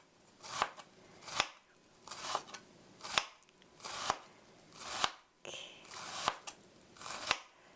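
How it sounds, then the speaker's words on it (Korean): A kitchen knife finely mincing meat on a cutting board, the blade striking in a steady series of about nine sharp, close chops with brief pauses between them. "이렇게 아주 작게 다져주세요."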